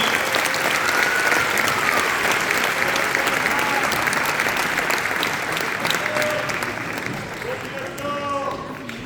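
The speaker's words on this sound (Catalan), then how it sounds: "Un fort aplaudiment, sisplau." A dense, steady round of applause from a crowd at a village festival ceremony naming the year's pubills, with voices mixed in near the end.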